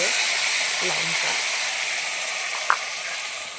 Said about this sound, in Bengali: এবার এর মধ্যে দিয়ে দেবো মশলা। এতে দেওয়া আছে আদা, জিরে, লঙ্কা।